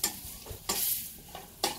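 Tripe frying in a pan while tacos de tripa are prepared, with a steady soft sizzle and stirring scrapes rising in several brief bursts, close and fairly quiet, with no talk.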